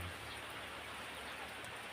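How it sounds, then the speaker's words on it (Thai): Steady rain falls around a rural home in cold weather, a continuous even hiss of drops that holds at the same level throughout with no voices. "ทั้งบ้านลุกอ้วนมันนี่ฝนตกฝนตกลิ้น"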